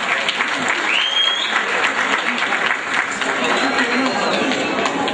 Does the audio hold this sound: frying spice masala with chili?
no